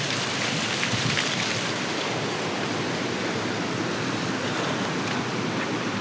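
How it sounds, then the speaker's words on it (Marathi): Heavy rain pours steadily on the Mumbai-Goa highway near Mahad, a dense, continuous hiss that stays loud and unbroken throughout, with no voices. "पाऊस एवढा मोठा आहे"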